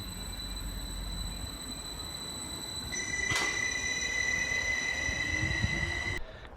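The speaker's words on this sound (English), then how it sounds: "Here we are at Stowmarket railway station." A train hums at the Stowmarket railway station platform, with steady tonal whine from the carriage and a brief squeal of wheels, loud and close throughout.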